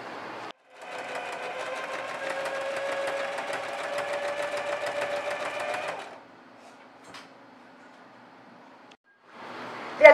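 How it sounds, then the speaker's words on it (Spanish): An overlock machine sews the seams of a faux leather jumper, a steady whirring, rattling hum for about five seconds, then quiet handling noises before it briefly starts again. "Realizamos overlock en el ruedo de las mangas, cuello, también en el ruedo."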